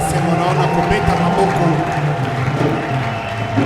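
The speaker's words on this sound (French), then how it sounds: "Manifestez votre joie par des acclamations." A Sunday church congregation cheers and applauds in a loud, dense, sustained wash of crowd noise and voices that holds steady throughout.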